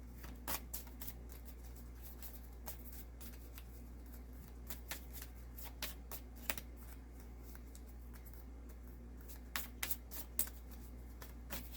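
Tarot cards are shuffled by hand, a series of soft rapid riffles and crisp snaps at irregular intervals over a quiet, humming room.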